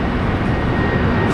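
Airliner rolling for takeoff at Brisbane Airport, a steady broadband engine roar with a low rumble, continuous and moderately loud throughout the short stretch with no voices.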